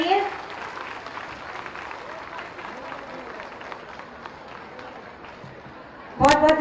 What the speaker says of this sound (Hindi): जोरदार तालियां मंच तक प्रेषित करें